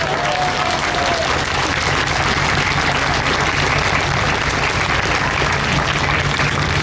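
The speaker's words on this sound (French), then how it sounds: "Et qu'on les applaudisse, s'il vous plaît." Cruise ship passengers applauding at a line-crossing ceremony aboard the MS Astoria, a loud, continuous roar of many hands clapping at once, sustained at full strength from start to finish with faint voices buried beneath.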